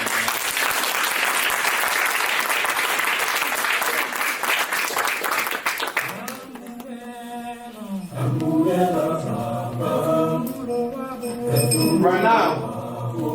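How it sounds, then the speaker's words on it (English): Audience at a university boutique fashion show claps loud and fast for about six seconds, then the applause stops and a voice speaks over a sung or musical backing. "Let's clap our hands."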